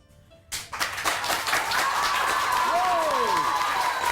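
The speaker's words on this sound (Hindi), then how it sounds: "अब आपने तालियां बजानी है और आगा साहब को बताना है" A live Pakistani morning-show studio audience breaks into applause after a short quiet lead-in, clapping building quickly and holding steady and fairly loud, with a faint tonal sweep and some voices mixed in.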